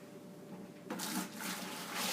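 Hot water, about two liters, is poured into a wine kit fermenter, a splashing gush that starts abruptly about a second in and continues steadily to the end.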